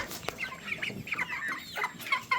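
Nine-week-old dominant CZ layer pullets, free-range, cluck and chirp in a steady, busy chorus of short overlapping calls close by, with no talking.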